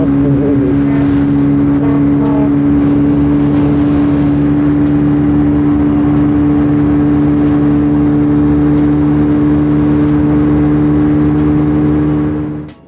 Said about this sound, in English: These bikes really love to be revved.